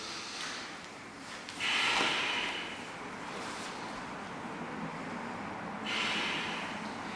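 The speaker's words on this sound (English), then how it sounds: "And we're breathing, exhaling into the hips." Slow audible breaths during a hip-opening yoga stretch, with a couple of forceful nasal exhales standing out against quiet room noise, close to the microphone.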